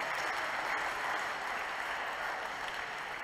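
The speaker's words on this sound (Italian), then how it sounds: "Un applauso a loro" Faint, distant applause from a church congregation during a 2021 Mass honoring the Venerable Francesco Convertini, a steady, even wash of clapping with no voices on top.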